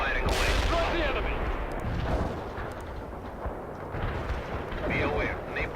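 Heavy artillery in World in Conflict pounds as a dense barrage of booming blasts and rumbling explosions, loud and continuous, with radio-style battle voices speaking over it.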